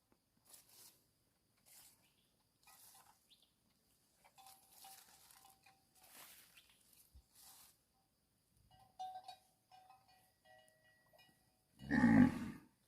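A single loud, close cow moo rises near the end after a long stretch of quiet rustling and faint clanks from a farmyard.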